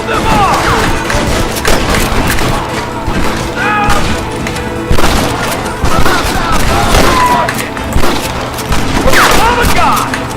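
Dense video-game gunfire in Red Dead Redemption, a sustained fusillade of overlapping shots with thuds and booms, loud and continuous for about ten seconds, with shouted voices over the firefight.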